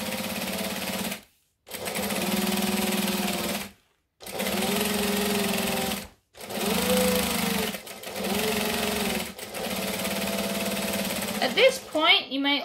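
A sewing machine stitches a backpack strap in several loud runs, each a steady buzzing hum, separated by short silent pauses, with brief clatter and handling noise near the end.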